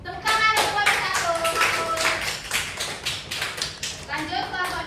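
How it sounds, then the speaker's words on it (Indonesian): Students in a microteaching classroom clap for group 1, a rhythmic burst of hand claps with voices talking and calling out over it. "Tepuk tangan untuk kelompok 1."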